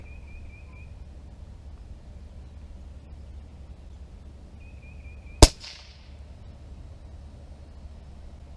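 A single sharp crack from a Umerex Origin .22 PCP air rifle firing a slug on a 1900 psi tank, a close, abrupt report standing alone against a faint background hum, with a brief high tone before and after.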